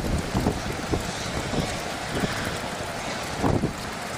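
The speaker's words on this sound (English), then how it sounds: "Boy, this wind is sustaining." Strong, steady wind roars across an outdoor microphone as a thunderstorm approaches, trees swaying nearby, a continuous broadband rush with periodic gust swells and buffeting, no talking.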